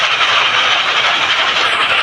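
A train running on rails fills the scene with a loud, continuous, close rumble and hiss, steady throughout with no pauses or voices.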